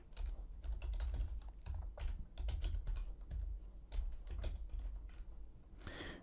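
Quick bursts of typing on a computer keyboard, close and crisp, with irregular clusters of clicks and brief pauses between them.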